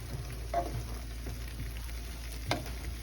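A figgy, beery, cheesy Spam dish cooks in a pan, giving a soft, steady sizzle with a couple of faint stirring scrapes.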